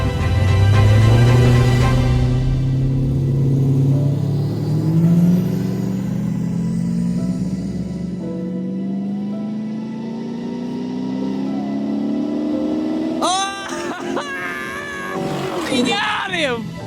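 A twin-turbo Jeep drag racing another Jeep on a dirt track: a loud engine roar whose pitch climbs steadily as it pulls away, then fades as excited spectators shout and cheer near the end.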